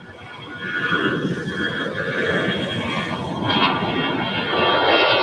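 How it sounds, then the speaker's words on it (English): An Alaska Airlines A320 jet rolling down runway 25 Right at LAX on takeoff, a loud, broad engine roar and rumble that holds steady and swells slightly, heard from a distance without voices. "we got an Alaska Airlines A320 on our way to Cabo, flight 208, rolling down 25 right"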